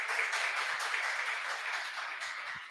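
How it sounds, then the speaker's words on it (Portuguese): A church congregation applauds after a sermon at a family service, a soft, distant and even wash of clapping that holds steady throughout without voices. "Em nome de Jesus, e as palmas."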